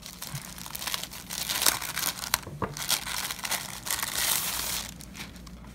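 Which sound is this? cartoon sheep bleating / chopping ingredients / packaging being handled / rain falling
packaging being handled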